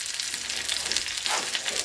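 Breaded chicken fries in a pan with a dense, steady sizzle and crackle, close and continuous, with faint stirring or shifting noises and no talk.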